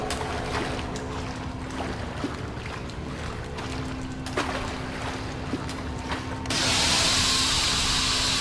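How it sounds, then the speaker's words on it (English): Steam in the horror video game Outlast: a dark, rumbling game ambience with faint clanks gives way to a loud, sudden burst of broad hissing steam that continues to the end, with no talk. "Gotta be careful of the steam."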